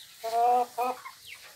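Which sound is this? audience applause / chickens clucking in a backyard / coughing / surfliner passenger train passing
chickens clucking in a backyard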